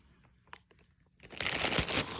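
A monkey opens a package, first with a few faint taps and rustles, then loud crinkling and crunching of the wrapping close by for about a second, alone without talk.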